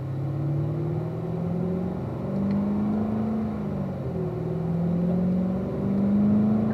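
A car in third gear pulls onto a race track, its engine humming with a low, steady drone that rises and falls gently in pitch as speed varies, loud and continuous with no voices.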